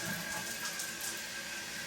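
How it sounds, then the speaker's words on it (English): An old ball cock toilet fill valve that has gone bad sprays water after a flush, making a loud, steady rushing hiss that runs unbroken from start to finish. "as soon as you flush, it starts spraying water everywhere"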